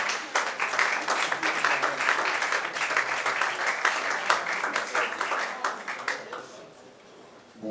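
A jazz festival press conference audience applauds Ray Lema with loud, sustained clapping that runs for several seconds before fading out near the end.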